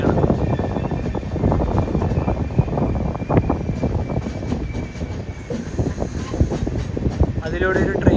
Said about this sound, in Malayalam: അതിലൂടെ ഒരു ട്രെയിൻ പോകുന്ന കാണുന്നില്ലേ,